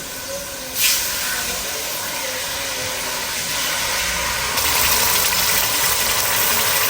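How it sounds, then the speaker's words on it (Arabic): Garlic slices fry in hot oil with a loud, steady, close sizzle that jumps up near the start and grows louder again partway through, continuous with no talking. "شفتوا شرائح الثوم هلا بيذوبوا ذوبان على القلي هيك بهالطريقه"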